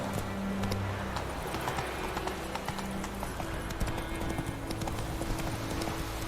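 Horse hooves clip-clopping at a steady trot in The Witcher 3, with the rhythmic clatter carrying throughout amid game ambience and an occasional faint whinny, with little talk over it.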